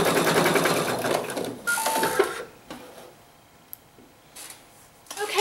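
An embroidery machine stitches a fabric tack-down on a raccoon mug rug, running in close, rattling bursts with brief pauses and a sharp tick between them.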